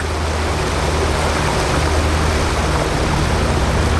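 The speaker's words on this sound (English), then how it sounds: "Gravity pulls the water down from the lake and sends it into the lock chamber through 100 man-sized holes in the floor." Water rushes into a Panama Canal lock chamber, pouring up through holes in the floor from the lake above, a loud, steady, broadband roar of turbulent water that stays even throughout with no talking.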